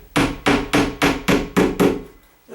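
A nail tapped into a wall while searching for a stud gives seven sharp, evenly spaced hammer knocks, loud and close, with a brief pause before a final strike.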